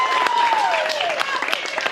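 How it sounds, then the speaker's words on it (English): A crowd applauds with dense, steady clapping throughout, while a voice speaks over it briefly. "Everybody clap for Pam."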